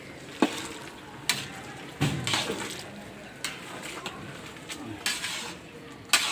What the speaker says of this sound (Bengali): কিছুক্ষণ পর উনি খুলে দিলেন ঢাকনাটা, আবার নেড়ে ছেড়ে দিচ্ছেন।